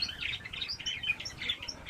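Budgerigars chirp in quick, high, bright bursts close by, overlapping one another continuously over a short moment with no talking.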